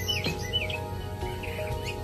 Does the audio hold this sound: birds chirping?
yes